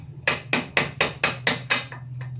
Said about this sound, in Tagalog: So pupukpukin nyo lang yan. Parang ganito. Para lumabas yung bolt.